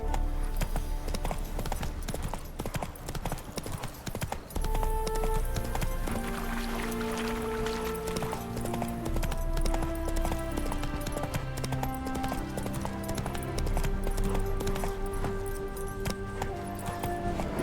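Rhythmic hoofbeats of a galloping horse in The Witcher 3: Hearts of Stone drive steadily under swelling orchestral game music, the thudding continuous and close throughout.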